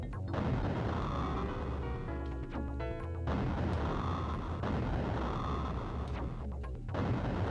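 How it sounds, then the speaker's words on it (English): Grenade blasts in the Sega Genesis game Alien 3, a steady run of rumbling explosive booms with short gaps, faint overall and mixed with chiptune-style tones. "Probably want to throw a grenade down there."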